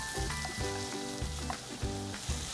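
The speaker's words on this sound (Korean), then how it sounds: "양파, 파프리카 같이 넣어주시면 돼요. 자, 이제 살짝 숨이 죽을 때까지 볶아볼게요." Sliced onion and paprika sizzle steadily while being stir-fried in a hot pan, with rhythmic scraping strokes of stirring repeating under the continuous frying hiss.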